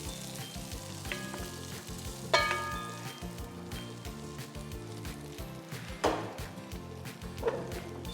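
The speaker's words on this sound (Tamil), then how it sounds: "ஜஸ்ட் ஒரு நல்ல ஒரு மிக்ஸ் கொடுத்துருங்க" Spicy tomato thokku is stirred in a pan, a soft, steady frying sizzle under repeated stirring scrapes, punctuated by a few sharper clanks.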